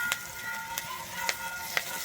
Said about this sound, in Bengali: আদাটা দিয়ে কিন্তু এখানে খুব ভালোভাবে ভেজে নেবো